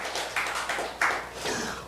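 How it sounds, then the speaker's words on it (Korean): Church congregation at a Korean healing revival service applauding, a few uneven bursts of clapping, fairly faint and brief. "하나님께 영광의 박수 돌리겠습니다"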